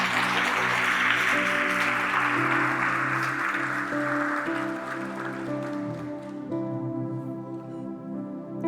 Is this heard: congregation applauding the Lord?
yes